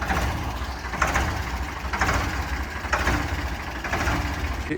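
A Ford 3600 tractor engine idles with a steady, low rumble. Its chugging surges slightly about once a second and continues throughout.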